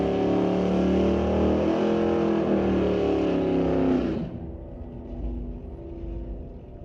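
Drag race at Mission Raceway Park between a 1990 Ford Fox body hatchback and a 2002 Firebird, loud roaring engines screaming up through the revs for four seconds, then dropping away to a distant rumble.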